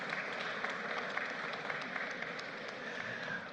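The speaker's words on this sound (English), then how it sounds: "Mr. Critchlow deserves a round of applause for that" Continuous applause fills the room at an art exhibition launch at Piarco International Airport, even and moderately distant, with no voices rising above it.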